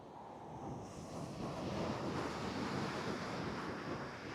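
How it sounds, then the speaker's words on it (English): Ocean waves surge and wash steadily, rising to a fuller roar after the first second and staying broad and continuous, with some wind rumble on the microphone and no voices. "Connecting to the sound of the waves as we slow down."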